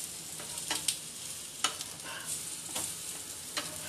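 Besan toast frying on a pan, a soft continuous sizzle with a few faint scraping stirs, close and quiet, no talking.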